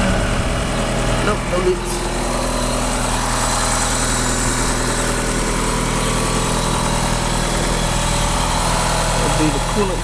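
An Eagle Talon AWD engine idles steadily at its first start-up, a constant close rumble. Someone speaks briefly over it.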